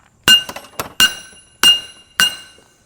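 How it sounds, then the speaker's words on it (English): Five sharp metallic strikes of a steel piece hitting a pipe on a Honda four-wheeler's steering, at uneven intervals, each a bright clanging hit with a short ringing tail, close and loud. "we're going to hit it with a piece of steel instead of a hammer"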